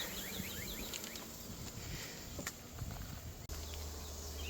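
Faint, steady buzzing of honeybees being installed into a Flow Hive, with occasional high chirps in the background.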